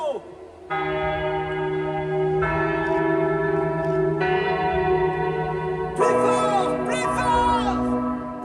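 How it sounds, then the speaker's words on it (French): Large church bells ring loudly with long, overlapping sustained tones, joined later by a swelling chorus of voices, in the Disney Loves Notre-Dame de Paris show at Disneyland Paris. "le moment où Frollo invoque Quasimodo et lui demande de sonner les cloches de Notre-Dame de Paris"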